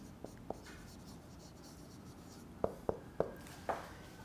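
Pen or chalk writing in short taps and strokes during a lecture, faint at first and then a quicker run of four sharp marks near the end.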